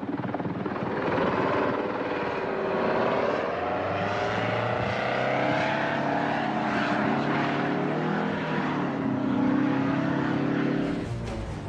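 Steady loud drone of a V-22 Osprey tiltrotor aircraft flying nearby on a 1991 test flight, a throbbing engine roar that shifts slowly in pitch throughout, with no voices.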